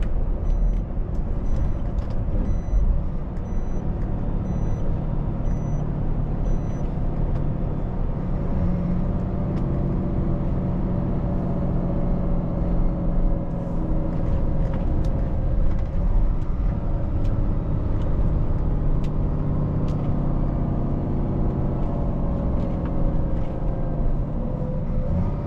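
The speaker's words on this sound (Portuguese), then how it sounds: "Esse barulho é do freio motor, vocês viram?" Truck engine brake working on a road descent: a steady, loud low droning rumble with a constant throaty tone that holds unbroken throughout, with no talking over it.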